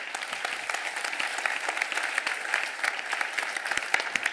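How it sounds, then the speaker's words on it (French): Audience at a professional oath ceremony for chartered accountants applauds, a moderately quiet, sustained spread of many hands clapping in a large hall, with a few sharper claps standing out. "Je pense que vous pouvez applaudir très fort Frédéric Gironne"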